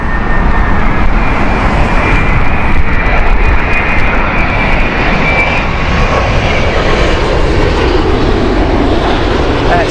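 A Virgin Boeing 787 jet airliner at Heathrow in heavy winds gives a loud, steady engine roar that holds broadband and unbroken for about ten seconds, with no voices over it.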